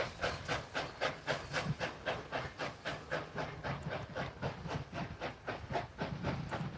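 Steam locomotive 630, in a whitewall livery, works on a double-header steam train near a curve in Walker County, Georgia, with a steady rhythmic chuffing of exhaust beats and hiss rolling continuously at moderate distance.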